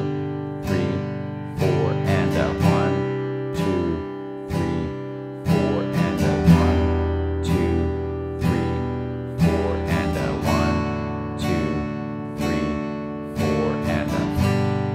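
A guitar strums a sixteenth-note pattern over a chord progression, with steady, evenly spaced strokes ringing out alone and clearly for the whole stretch, with no talking.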